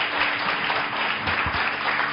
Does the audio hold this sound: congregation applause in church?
yes